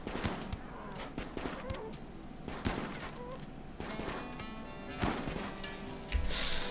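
Turret gunfire in the strategy game Vectorio: rapid, repeated sharp shots and bursts cracking in a steady stream, with heavier impacts near the end over a dense layer of game sound.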